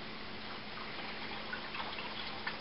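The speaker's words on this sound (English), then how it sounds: "just to add a little more water to it" Water trickles and splashes steadily into a mead mixture during homemade mead brewing, a soft continuous pour with a few small drips standing out near the end.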